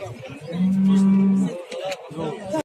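A cow lows with one long, loud, close moo at the Özgön livestock market, followed by ambient crowd noise and a few shorter animal sounds.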